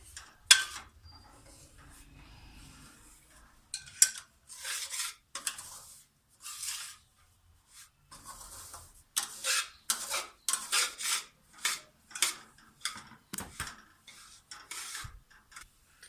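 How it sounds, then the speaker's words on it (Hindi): Semolina being stirred and roasted in hot ghee or oil for halwa, a spoon scraping the pan in a steady series of close, crisp strokes with short pauses between. "जैसे ही हमारा घी या ऑयल गर्म हो जाए तो उसमें हम सूजी डाल देंगे और इसको अच्छी तरह से हमने भून लेना है।"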